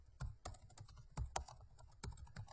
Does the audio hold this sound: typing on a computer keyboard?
yes